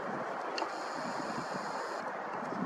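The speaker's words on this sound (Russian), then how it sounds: "Слишком сильный ветер." Steady, heavy wind roars and buffets the microphone throughout, a dense broadband rush with no voices.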